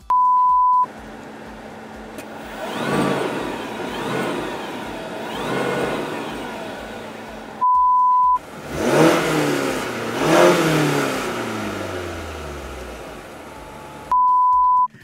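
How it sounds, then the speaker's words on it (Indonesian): A Mazda CX-80 PHEV hybrid's engine revs up and down in neutral in several surges, separated by short electronic beep tones, loud and close with no talking. "Dia bisa geber mesin, bisa geber motor EV-nya."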